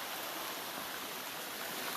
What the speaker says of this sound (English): Then back to the river.